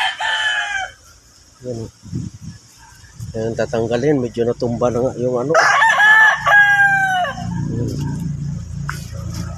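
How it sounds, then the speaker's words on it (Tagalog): Fighting roosters crow loudly nearby, several drawn-out calls overlapping, with clucking hens and someone talking in between. "Mga panabong nating manok ay yan."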